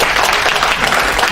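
A church congregation claps together in a dense, continuous burst of applause that fills the room for a moment.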